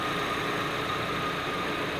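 A car engine idling in park, a steady, continuous low rumble with a dense broadband hum that holds level throughout, close and fairly loud, with no voices.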